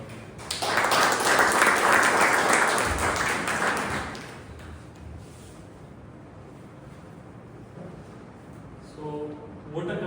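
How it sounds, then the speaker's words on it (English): Members at a Toastmasters club meeting give a round of applause for an evaluator, a loud burst of clapping that swells for a few seconds, then drops to quiet room noise with a faint voice near the end. "please give a round of applause to Toastmaster Anurag"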